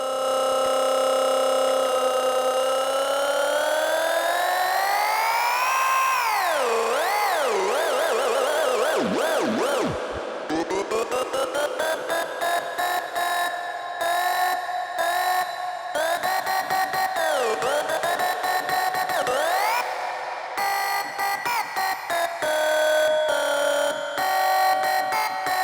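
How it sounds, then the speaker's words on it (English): A playing record is drenched in live reverb by a DJ, its sustained tonal music sweeping and smearing into long echoing tails, with pitch bends and wobbles, loud and continuous throughout with no talk. "add reverb to it"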